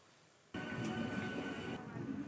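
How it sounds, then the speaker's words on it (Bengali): A train runs on rails as it curves on the approach to Howrah, a steady broadband rumble that starts abruptly after a quiet moment and holds loud and close until the end. "এই দেখুন এখানটা ট্রেনটা কি সুন্দর কার্ভ নিচ্ছে"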